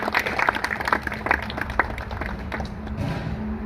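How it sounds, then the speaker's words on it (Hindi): Audience clapping in welcome for a KVK scientist at a farmers' gathering on a Bayer company farm house in Rani Bazar, Ayodhya; scattered claps over steady crowd murmur, fairly near, with some background talk. "एक बार स्वागत के लिए ताली बज जाए"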